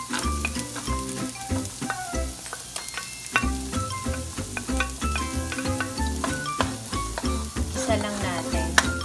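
Garlic and onions sizzling in a pan while being stirred for quinoa fried rice, a busy frying crackle with scraping stirs, mixed with background music throughout.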